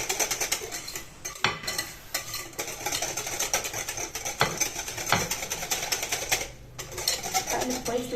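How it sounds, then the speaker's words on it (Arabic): Anise biscuit dough's liquid ingredients stirred in a bowl, a steady run of scraping and clinking strokes against the sides, close and busy with no speech. "هقلب كويس لغايه لما المكونات تختلط مع بعض كويس"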